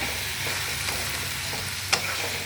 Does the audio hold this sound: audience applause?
no